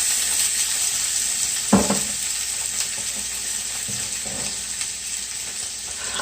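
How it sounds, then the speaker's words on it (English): Steady broadband sizzle of pure olive oil sautéing in a pan for squash soup, continuous and close, with a couple of soft clinks or stirs partway through. "we need to saute this, and it must be olive oil, pure olive oil"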